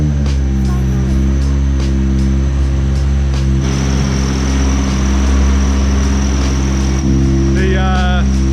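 A Honda K24 engine in a DC5 Integra/RSX idles steadily on a dyno, with a worn tensioner bearing adding a thin, constant high squeal over the low engine hum; brief chirps appear near the end.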